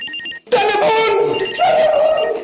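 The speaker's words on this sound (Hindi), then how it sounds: "फोन आ गया, फोन आ गया, फोन आ गया।" A telephone rings in a home, a loud electronic trilling burst followed after a short break by longer repeated ringing tones, close by with no speech over it.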